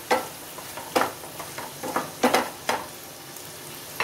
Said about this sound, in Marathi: आता दोन तीन वेळा ही कोलंबी मी चांगली सवतळलेली आहे